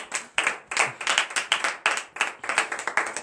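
A church congregation claps together in praise at a night deliverance service in Benin, sharp rhythmic hand claps repeating about three times a second, loud and close with no talking.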